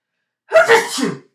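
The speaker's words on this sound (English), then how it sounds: "I'm sorry, I'm going to sneeze." A single sharp sneeze bursts out after a moment of silence, close and loud, trailing off into a short breathy exhale.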